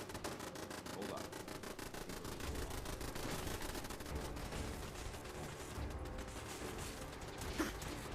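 Enemy gunners in Fallout 4 fire fast, steady automatic bursts, a faint and somewhat distant rattle continuing across the whole stretch beneath a background hum, with a short clank near the end.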